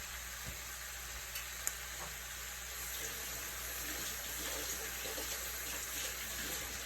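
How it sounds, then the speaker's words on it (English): Chicken livers crisping in a hot pan give a steady, close sizzle and crackle that grows slightly denser over time, with a few faint clinks and no talking. "I'm going to let my livers crisp a little bit more"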